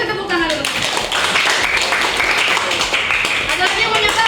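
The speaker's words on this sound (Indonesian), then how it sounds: "kasih tepuk tangan dulu" Students in a high school classroom break into applause, a steady wash of clapping lasting several seconds with voices mixed in underneath.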